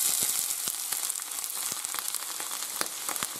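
Onion and garlic sautéing in oil in a pan for a Spanish potato and salt cod stew, a steady close sizzle with frequent small crackles and pops, no voices.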